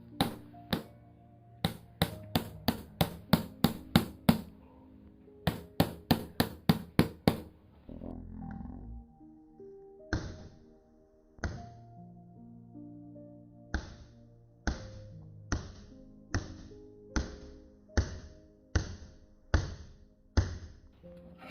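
A hammer strikes a smartphone's glass screen protector in quick series of sharp, hard knocks, rapid bursts at first, a short clattering pause, then evenly spaced single blows, close and alone with no talking.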